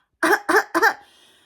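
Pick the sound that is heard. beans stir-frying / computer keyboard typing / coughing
coughing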